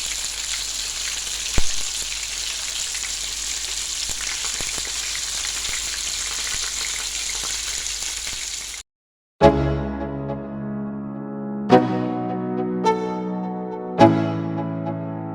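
Fish and breadfruit sizzling in a hot pan, a steady crackling fry for most of the stretch before it cuts off, followed by a few sharp, ringing knocks.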